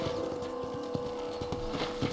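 Horse hooves clip-clop at an easy walking rhythm, close by, over a low background hum, in the video game Red Dead Redemption.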